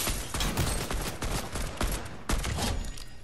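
Gunfire in the video game Fortnite, with a dense, continuous spray of rapid shots in close succession, loud and up front, with no talking over it.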